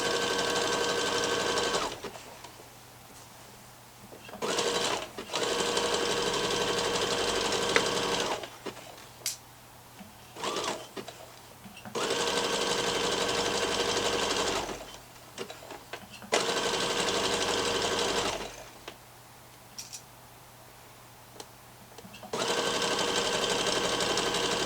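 A sewing machine stitches the elastic channel on kids' elasticated-waist shorts in several steady, even bursts of running, each lasting a few seconds and separated by short pauses.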